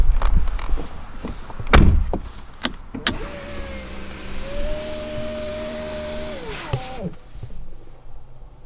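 A 2019 Mercedes-Benz C300's power window hums up for several seconds before the door thunks shut, preceded by a few sharp clicks and knocks nearby.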